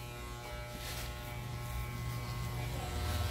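Electric hair clippers with a short guard buzz steadily through a haircut on coarse, tightly curled hair, a close continuous motor hum that rises slightly toward the end, with no talking.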